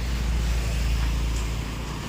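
An Eeco car idles steadily at close range, its low engine rumble constant throughout with faint wind or road noise in the background.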